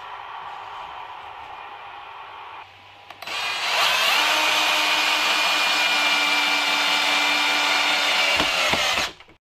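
A power tool whines loudly and steadily for several seconds while cutting wooden rafters for the false floor of a kitchen unit in a van conversion, then stops abruptly. A quieter tool noise comes first.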